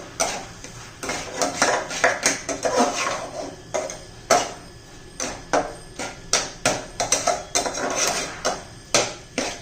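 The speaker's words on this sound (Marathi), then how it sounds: "सगळं बिर्याणी याच्यामध्ये व्यवस्थित हलवून घेऊया मिक्स करूया मसाल्यामध्ये" A spoon stirring egg rice masala in a cooking pan, with repeated sharp metallic scrapes and clanks in an irregular rhythm, close and fairly loud, with no talking.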